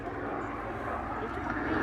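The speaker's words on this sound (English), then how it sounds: "it's the Packard Merlin engine that powers this bubble canopied P-51D model" A steady, droning piston aircraft engine, a P-51D Mustang's Packard-built Merlin at an air show, holding a constant roar throughout with no pauses.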